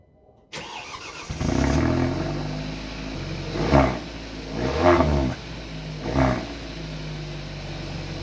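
A 1.4-litre turbo car engine cranks and starts, settles into a steady idle, then is revved hard three times in quick succession, each rev rising and falling close by with no one talking.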